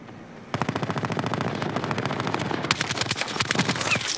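Rapid automatic gunfire in a video game, a dense unbroken stream of shots from about half a second onward that keeps a steady rhythm and stays loud and close throughout, with no speech.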